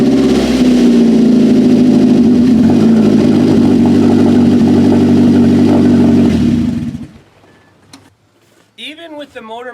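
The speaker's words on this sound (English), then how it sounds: "Even with the motor mount broken the way it is, this car still runs" A car with a broken motor mount runs with a loud, steady engine rumble close by for several seconds, then cuts out abruptly, leaving near-silence broken by a few light clicks and a brief voice.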